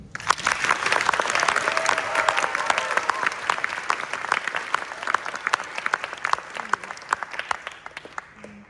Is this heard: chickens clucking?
no